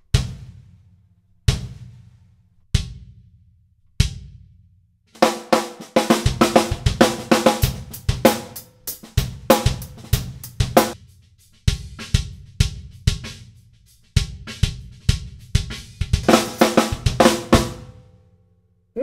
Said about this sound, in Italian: La cassa completamente vuota suona così.